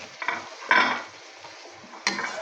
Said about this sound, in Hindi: अब इसमें हम डालेंगे टमाटर की प्यूरी। ये ले दी, हो जाएगी टमाटर की प्यूरी। अब इसकी भुनाई करेंगे।